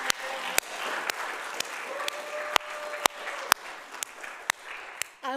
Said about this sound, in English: I want to clap for my staff,